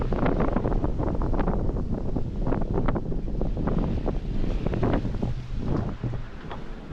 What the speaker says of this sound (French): Et le vent revient très fort.